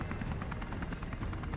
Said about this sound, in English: there is a helicopter that you can destroy